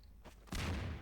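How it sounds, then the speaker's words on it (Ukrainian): A grenade goes off in Garry's Mod: a faint lead-in gives way to one sudden loud, broad blast that holds as a roaring rumble for the remaining half second, with no voices. "А граната, ну-ка. Гранати, бем."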